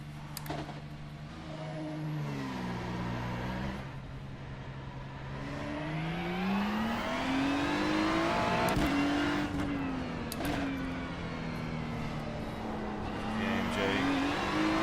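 A GT4 race car in the iRacing simulator at the Red Bull Ring, its engine note climbing and falling as it revs and changes gear, a continuous droning tone with smooth pitch sweeps.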